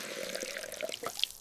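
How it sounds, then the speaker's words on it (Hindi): Water is poured gently onto a small potted plant, giving a soft, close trickle with light splashing and a few drips, heard alone without speech. "दोपहर में अली ने छोटे पौधे को पानी दिया।"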